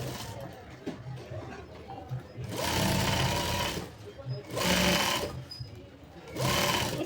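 A sewing machine stitches a designer kurti piece in three loud, close bursts of rapid needle clatter, separated by short quieter pauses with faint handling noise.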